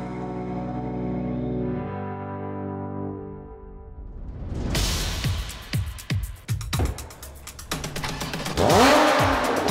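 Modified mid-engine Porsche Cayman tuned beyond GT3 RS power, first a steady droning engine note, then hard revving bursts and rising acceleration pulls, ending in a loud, sustained high-rpm run.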